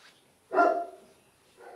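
An excited dog gives one loud, close bark that trails off, followed by a softer second yelp near the end, with no talking over it.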